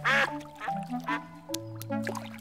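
An animated cartoon duckling quacks loudly up close in a quick series of bright, squeaky calls, with short pauses between the quacks and no voices.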